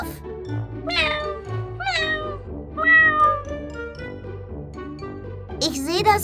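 A cat meows several times, high wavering cries repeated at short intervals over a gentle music background, close and clear.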